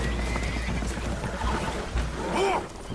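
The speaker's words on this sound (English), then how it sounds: "Horses are spooked, and we're taking on water." Spooked horses whinny aboard a boat that is taking on water in the Red Dead Redemption II video game, a shrill neigh rising late over a dense rumble of game noise and sloshing.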